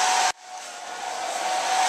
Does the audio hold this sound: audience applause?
no